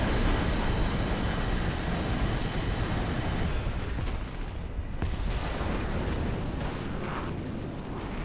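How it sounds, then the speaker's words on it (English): A bomb blast in a war video game with tank combat: a loud, sustained rumbling roar of explosions and heavy gunfire that carries through the whole stretch, with no talking over it. "And there's a bomb."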